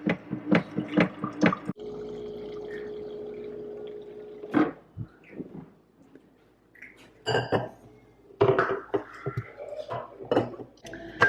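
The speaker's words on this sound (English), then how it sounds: "put about 6 ounces of hot water in my tumbler here" Hot water is poured into a tumbler in a kitchen, a gurgling stream of pouring followed by clinks of glass and dishes, close and intermittent with quiet gaps.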